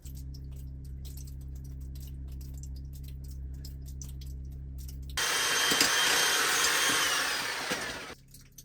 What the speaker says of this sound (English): I think I'm actually gonna fire up the big jackhammer, just see if I can knock off a few of these bigger rocks